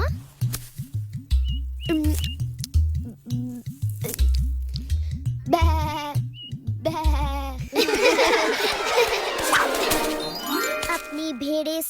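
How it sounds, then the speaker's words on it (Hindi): Cartoon sheep bleating in a Krishna animation, several wavering bleats mixed with jingling bells, tinkling music and children's voices talking, rising into a busier musical passage at the end. "अपनी भेड़ें संभालो श्रीधाम।"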